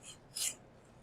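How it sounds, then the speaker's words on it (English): A brief rasping scrape of a knife sawing through tough salmon skin, one short gritty burst standing out against a quiet background. "I'm sawing at it while putting a lot of tension on the skin."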